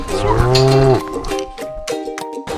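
Dairy cows low and moo inside a cattle barn on a dairy farm, one long loud call up close followed by shorter, fainter moos from other animals, with no talk over them.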